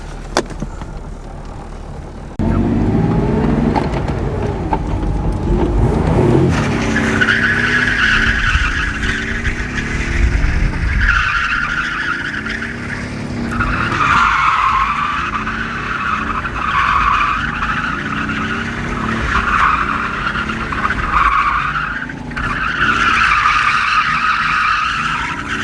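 A five-speed manual-swapped BMW E36 drifting on a street, with long loud tire screeches in repeated bursts over the revving engine, each slide swelling and easing off as the car swings through.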